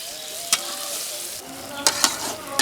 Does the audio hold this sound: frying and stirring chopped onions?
yes